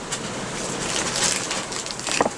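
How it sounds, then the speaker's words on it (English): Steady, rough wind buffeting a microphone inside a shed, a broadband rushing roar that swells and gusts throughout, with a few brief rattles near the end. "Sorry about the wind noise, everyone."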